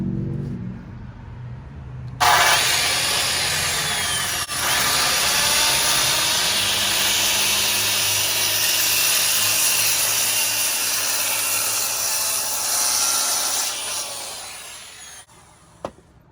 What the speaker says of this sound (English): set your bevel on your circular saw to about 45 degrees, and then follow your line